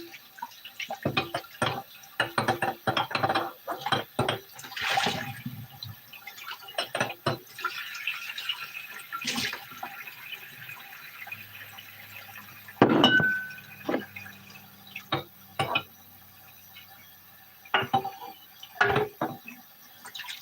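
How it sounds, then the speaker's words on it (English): Glass jars rinsed under running water at home while making apple juice, with bursts of splashing and dripping, clinks of glass knocking together, and quiet gaps between rinses. "let's rinse out the jars"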